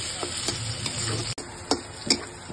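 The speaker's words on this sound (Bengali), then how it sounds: "পেঁয়াজটা আমি একটু ভেজে নিচ্ছি" Onions fry in hot oil in a pan, giving a steady sizzle punctuated by several sharp spatula taps and scrapes at uneven intervals, with no talking.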